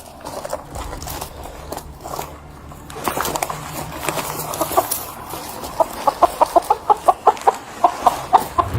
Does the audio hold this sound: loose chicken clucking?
yes